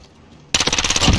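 Rapid video-game gunfire with a light, small BB paint-gun character breaks out suddenly after a quiet lead-in, a fast loud stream of close shots running to the end.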